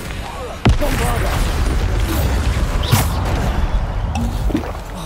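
Bombarda blasting spells detonate in Hogwarts Legacy combat, a sharp booming burst near the start followed by continuous rumbling, crackling battle noise and another impact about three seconds in.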